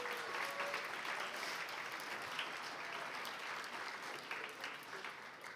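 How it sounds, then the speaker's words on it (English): Sustained audience applause for candidates at a student guild election results night, a steady, dense wash of clapping from a crowd indoors lasting throughout. "Can we get a round of applause for all the candidates for their hard work campaigning during these elections?"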